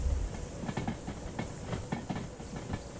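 A train rolling on rails in the Derail Valley railway game, shunting at a steel mill, gives a faint steady rumble and hiss with soft rhythmic clicking of wheels over rail joints and no voices.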